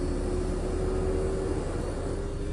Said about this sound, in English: You guys can hear the fan start right now because I'm stationary.